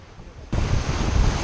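A sailboat racing at about 30 knots in a regatta off St Barth, with a sudden surge of rushing wake, spray and wind noise that swells and holds, loud and close, with no voices.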